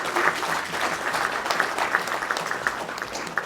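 A crowd at a startup conclave in Odisha applauds warmly, a continuous wash of many hands clapping at an even, full level throughout.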